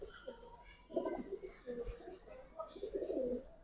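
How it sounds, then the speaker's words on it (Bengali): Pigeons (Giribaz and colored breeds) coo softly in a loft, low murmuring calls repeating in bursts with faint rustling, moderately close. "উড়ানো হয়েছে কবুতরগুলো, অনেক ছটফট করে ভাই"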